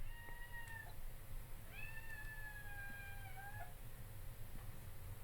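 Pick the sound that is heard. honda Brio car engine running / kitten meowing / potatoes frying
kitten meowing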